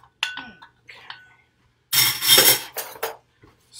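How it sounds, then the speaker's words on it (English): A metal spoon stirs a cornstarch mixture in a bowl, giving a few light clinks followed by a louder scraping burst of stirring, close by, with a person speaking briefly in between. "I'll get a stir."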